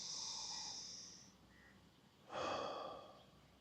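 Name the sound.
breathing into the upper chest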